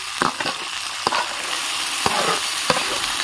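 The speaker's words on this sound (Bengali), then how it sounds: "আমি এর মধ্যে মেখে রাখা থোড়গুলো দিয়ে দিচ্ছি" Banana stem pieces hit hot oil with frying potatoes, giving a steady bright sizzle broken by several sharp scraping stirs of a spatula in the pan, close and loud, with no talking.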